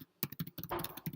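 Rapid, uneven keystrokes on a computer keyboard while entering text in a simple text area, close and fairly quiet, with brief pauses between bursts of taps.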